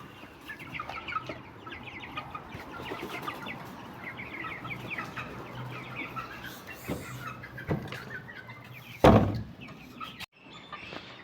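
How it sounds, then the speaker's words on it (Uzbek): Soft clucking and peeping from two-month-old Jersey Giant chicks throughout, with a sharp thump or door bang near the end. "Mana Jersey gigant jo'jalari 2 oylik atrofida bo'lib qoldi."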